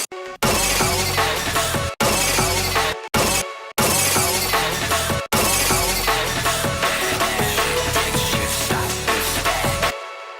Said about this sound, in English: Where's the glass breaking?